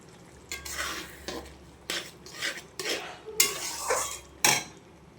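Gobindobhog rice sautés with spices in a pan for a fish-head rice dish, stirred with short, close scraping strokes roughly once a second over a low sizzle, with no one talking.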